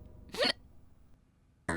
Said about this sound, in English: Hey, why are you getting hiccups?